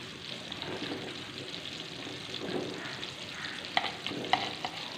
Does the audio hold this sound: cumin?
yes